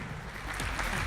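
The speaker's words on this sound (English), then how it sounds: "Please give it a round of applause." Audience clapping at a technology conference in Colombia, a moderate round of applause that swells slightly toward the end, heard from within a large hall.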